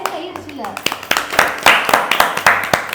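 A small family group claps during a score announcement in a home quiz game, a run of quick, irregular hand claps mixed with lively talking voices.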